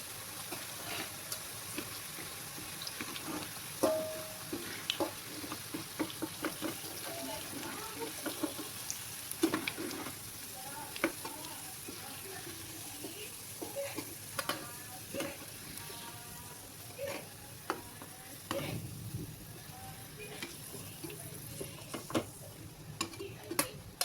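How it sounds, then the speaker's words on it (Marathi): Onion frying in a pan until reddish gives a faint, steady sizzle with frequent small clicks and scrapes of stirring throughout, and a voice talks softly at times. "एक कांदा आता लालसर भाजू द्यायचा"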